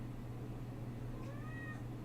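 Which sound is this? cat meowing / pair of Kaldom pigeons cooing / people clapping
cat meowing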